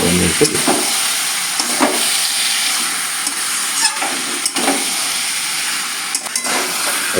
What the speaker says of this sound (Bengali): চিংড়িটা দিয়ে আমি এবার কষাবো বেশ খানিক্ষণ কষিয়ে